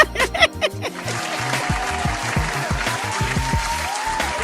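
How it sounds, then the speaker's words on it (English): Clapping applause on a live talk show, a burst of hand claps at the start that settles into scattered clapping beneath booming background music. "I'm going to just clap it up just because."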